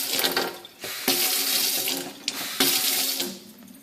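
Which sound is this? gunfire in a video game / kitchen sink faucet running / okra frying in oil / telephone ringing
kitchen sink faucet running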